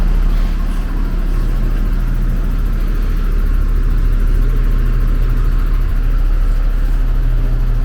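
A mobile crane truck's engine rumbles steadily at a low idle while moving into position for a late-night steel beam install on a residential street, a constant, fairly loud drone with no talking.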